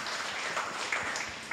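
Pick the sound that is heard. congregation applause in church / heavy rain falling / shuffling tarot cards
congregation applause in church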